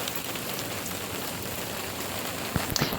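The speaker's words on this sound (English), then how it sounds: "oh, it's raining hard again" Heavy hurricane rain pours down steadily and loudly in a dense, unbroken wash, with a couple of sharper knocks near the end.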